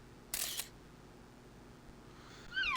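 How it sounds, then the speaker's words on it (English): A single sharp camera shutter click rings out in theHunter: Call of the Wild hunting game, brief and crisp against quiet ambience, followed near the end by faint bird chirps. "That guy didn't like the sound of the picture being taken."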